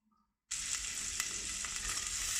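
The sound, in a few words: garlic frying in oil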